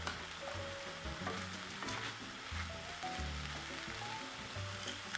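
Ground beef frying in one pan for a cheese Bolognese pasta, a soft continuous sizzle and crackle with occasional light stirring, quiet and without speech.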